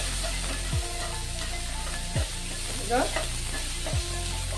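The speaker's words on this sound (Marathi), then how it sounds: "हे आता लसूण, आलं आणि मिरचीची पेस्ट होती ना ती थोडी टाकून घेते मी आता तुपावर" Garlic, ginger and chili paste sizzles steadily in hot ghee over toasted cumin, a continuous loud frying hiss broken by a few sharp scrapes and clanks of stirring.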